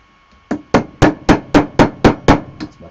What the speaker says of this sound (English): let's see how we go now bending that around the mandrel.